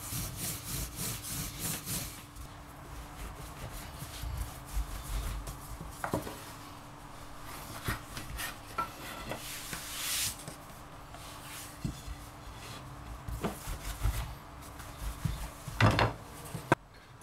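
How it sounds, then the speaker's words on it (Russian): Dough for kadubarak being rolled out on a wooden surface, a steady rubbing, scraping rhythm of the rolling pin with occasional knocks, close and moderately quiet, without talk. "Теперь осталось нам раскатить тесто."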